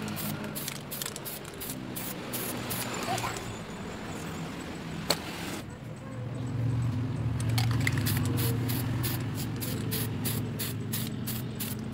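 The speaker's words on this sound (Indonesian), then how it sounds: "Nah, ini kita semprot tipis-tipis dulu." Aerosol spray paint hisses over a motorcycle swing arm in thin, even coats, a steady broadband spray with short pauses and bursts, fairly close, while a low mechanical hum runs underneath.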